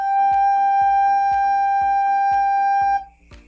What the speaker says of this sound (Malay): Itu bunyi not G.